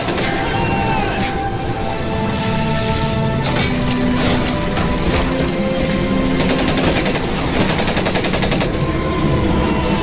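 Rapid machine-gun bursts and explosions in the video game Medal of Honor Pacific Assault, from 2004, crackle densely and continuously under loud battle noise and music.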